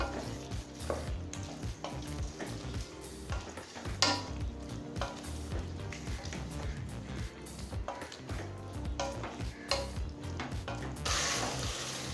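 Onions stirred and sautéed in a pan for Ambur chicken biryani, with a steady sizzle and repeated clanks of a spoon against the vessel running nonstop at close range, and no voices.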